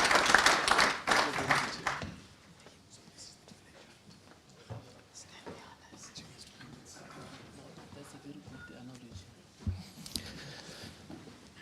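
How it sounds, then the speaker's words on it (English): An audience at an agricultural outlook conference bursts into loud, dense applause for about two seconds, then the clapping fades into scattered claps and quiet room noise. "let's clap our hands"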